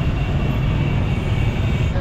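Continuous loud rumble of a train on railway tracks in far northern Vietnam, a steady broadband roar with no breaks.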